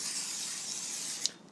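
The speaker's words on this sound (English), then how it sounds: "we take the olive oil spray. Before we put it on the grill, we always spray it as much as we can" Olive oil spray hisses from a can onto a chicken before grilling, one continuous close spray lasting over a second, ending with a brief sharper burst.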